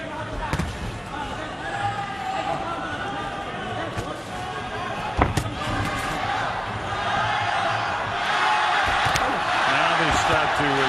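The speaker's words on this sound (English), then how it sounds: "That's really kind of the first chant that I've heard in my trips here to China." Spectators at a professional boxing match in China, Hong Kong boxer Rex Tso against a Thai opponent, chant rhythmically beneath continuous arena commentary, with occasional sharp thuds and the crowd swelling louder toward the end.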